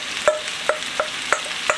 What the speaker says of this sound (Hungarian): és akkor most ide így beleöntöm a káposztát